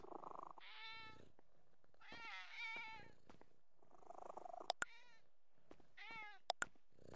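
Several cats meow repeatedly in drawn-out, wavering calls with soft purring between them, close and clear, punctuated by a few sharp clicks.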